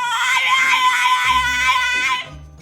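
A dog named Bruce screams in a loud, ultra high-pitched, inconsolable wail that sounds almost like a child crying, sustained for a couple of seconds before cutting off, with a faint voice underneath.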